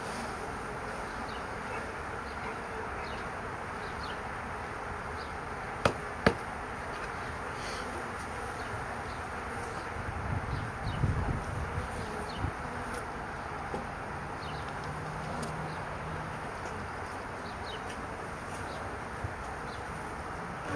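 A swarm of honey bees buzzes in a soft, continuous hum outdoors, fairly faint and steady, with a few sharp clicks and knocks close by.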